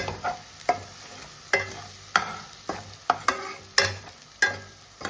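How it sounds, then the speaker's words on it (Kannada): Mutton masala frying in oil while being stirred, regular clanking strokes of a spoon against the pan roughly every half second over a soft sizzle, close and without speech. "ಚೆನ್ನಾಗಿ ಮಿಕ್ಸ್ ಮಾಡಿ ಆಮೇಲೆ ಈ ಫ್ಲೇವರ್ಸ್ ಎಲ್ಲ ಆಚೆ ಕಡೆ ಬರೋ ತನಕ ಸ್ವಲ್ಪ ಎಣ್ಣೆಯಲ್ಲಿ ಫ್ರೈ ಮಾಡಿ"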